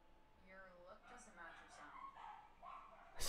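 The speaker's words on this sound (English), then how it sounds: "Apologies for the dogs" Several dogs bark and whimper at a low level throughout, a steady run of yips and whines sitting behind a live game stream, ending in a brief louder burst.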